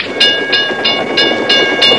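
A cartoon subway train rolls past with a regular clickety-clack, about six evenly spaced rhythmic clacks over a steady rumble, loud and close.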